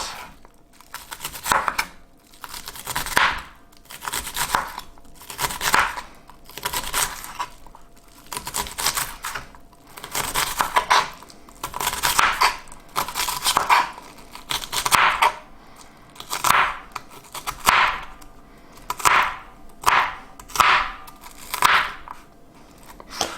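A kitchen knife slices an onion on a cutting board in steady, evenly spaced crisp cuts, close and clear, roughly one chop per second with no talking.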